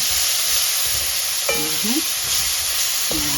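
Food sautés in a pan, a steady close sizzle and hiss, while a short tonal squeak or voice-like sound cuts in briefly twice.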